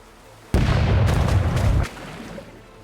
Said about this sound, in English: Cannons, sound off! All cannons, fire!